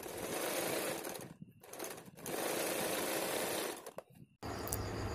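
A sewing machine runs in steady bursts while stitching a blouse seam, with short pauses between runs, loud and close, and a different mechanical hum at the end.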